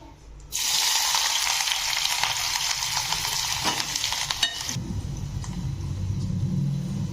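Onion for egg bhurji sizzles loudly in a hot pan, a bright crackling hiss that cuts off abruptly, leaving a lower rumble and quieter frying.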